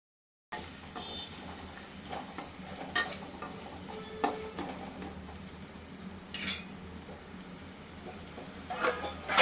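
Onions and green chillies fry in oil for mint pulao, with a soft continuous sizzle under repeated sharp clinks and scrapes of a stirring spoon against the pan.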